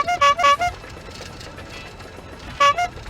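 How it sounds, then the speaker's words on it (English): A carriage horn honks in a Shrek 2 video game: a quick pair of bright toots, a pause, then another toot, over a low rumbling background. "We can even honk the horn."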